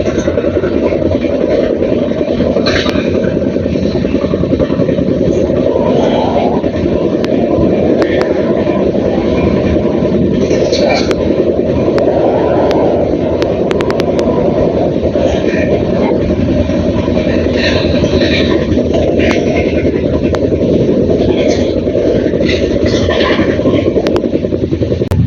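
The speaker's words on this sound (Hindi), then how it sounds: "बरैया में भाई साहब तबाही मचाती है ये ट्रेन" A train thunders through Baraiya junction without stopping, a loud, continuous roar of wheels and carriages with rhythmic rail clatter that holds up close for the whole pass.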